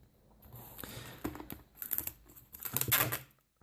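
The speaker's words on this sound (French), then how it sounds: "Je vais prendre les ciseaux." Scissors snip through tape on a sealed Pokémon card display box, a run of close, sharp crackling cuts and crinkles coming in uneven bursts and growing louder toward the end.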